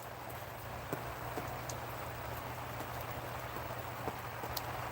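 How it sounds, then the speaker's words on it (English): Steady rain pours outdoors, a dense hiss with scattered louder drops tapping nearby surfaces, continuous and fairly faint throughout. "it was piss pouring rain like it is today"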